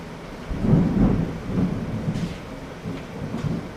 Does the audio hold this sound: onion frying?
no